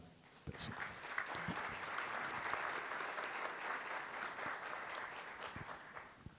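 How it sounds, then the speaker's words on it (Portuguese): Audience applause at a forum panel fills the room, a steady sustained clapping from a crowd heard at moderate distance throughout. "pedir uma salva de palmas"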